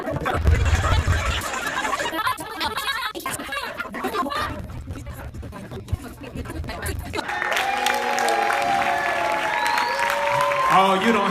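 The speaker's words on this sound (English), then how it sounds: "y'all clap for British." An audience at a movie premiere claps for several seconds, mixed with talking and whooping voices, then shouts and cheers take over toward the end.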